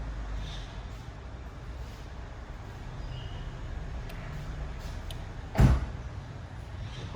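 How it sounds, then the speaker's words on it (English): An Alfa Romeo 159 2.2 JTS door closes once with a single short thud partway through, over a steady low background hum, with no talk. "close the door again"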